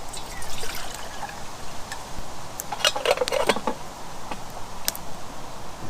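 Water is poured from a measuring cup into a coffee pot outdoors in the wild, a steady close trickle with brief splashy bursts midway.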